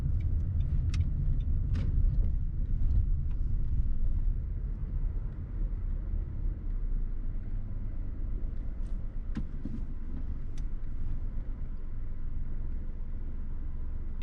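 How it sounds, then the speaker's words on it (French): A car slows and comes to a halt at a stop sign on a town street in Saint Germain en Laye, a steady low road rumble that eases off as it stops, heard from inside the car, with faint clicks and no talking. "Et je vais freiner pour m'arrêter au stop."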